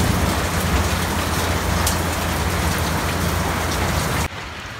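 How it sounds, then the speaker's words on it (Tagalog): Loud, steady downpour hisses and drums on surfaces, then cuts off abruptly near the end, leaving a quieter background. "Di pa rin talaga natigil yung ulan."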